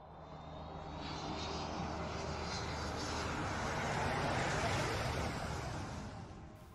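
Airbus A320 jetliner taking off, a loud broadband roar of turbofan engines that swells after the first second, holds strong and steady, then eases slightly toward the end, with no talking over it.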